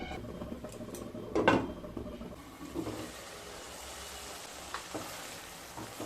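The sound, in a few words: sautéing masala with cashew paste in a pan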